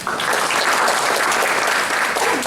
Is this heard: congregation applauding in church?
yes